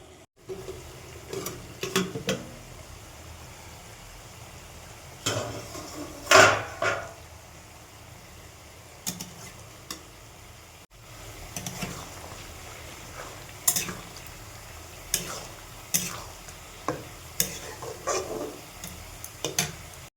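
Chicken kosha is stirred and sautéed in oil in a pan, with intermittent scraping and clattering spoon strikes, a faint sizzle underneath, and a few louder knocks spread through the stretch.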